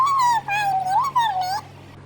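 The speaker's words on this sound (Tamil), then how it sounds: "பார்த்தீங்களா, நாய் வந்துட்டு." A dog in the video game Indian Bike Driving 3D gives a drawn-out, wavering whimper, loud and close, with no one speaking over it.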